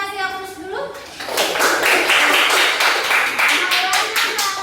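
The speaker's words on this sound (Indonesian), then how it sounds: "Kita kasih aplaus dulu." A classroom audience gives a student a burst of applause, loud and close, with clapping that starts after a brief spoken voice and continues steadily.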